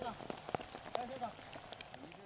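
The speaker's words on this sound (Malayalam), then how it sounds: "കോഴിക്കോടിന്റെ കിഴക്കൻ മലയോര മേഖലയിൽ ശക്തമായ മഴ" Heavy rain in the hilly eastern highlands of Kozhikode patters densely on surfaces as a continuous soft hiss, with a few sharper drop impacts and a voice faintly underneath.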